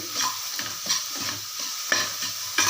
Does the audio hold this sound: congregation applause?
no